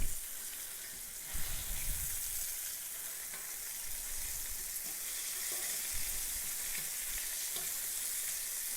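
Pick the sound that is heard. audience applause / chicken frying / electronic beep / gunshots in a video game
chicken frying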